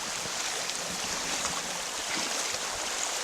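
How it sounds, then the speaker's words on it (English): A small, low-volume waterfall spills steadily into Fishing Creek in York County, a continuous soft broadband rush of water heard at a distance and alone, with no voices. "So here's the waterfall. Not a lot of water, but it's steady."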